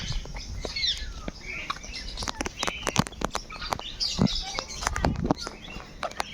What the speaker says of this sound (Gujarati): પહાડી પોપટ.